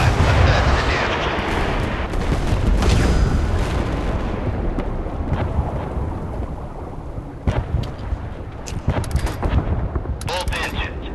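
Warship artillery in the Force of Warships naval combat game booms in heavy, rumbling blasts, with a dense roar at first that thins into scattered sharp shots and crackles toward the end.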